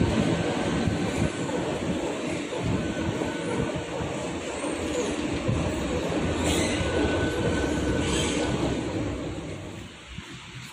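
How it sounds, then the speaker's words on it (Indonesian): Palembang LRT train at a station platform, a loud continuous rumble of rolling wheels with a faint high squeal, gradually easing off near the end. "Ini keretanya di peron 1 katanya."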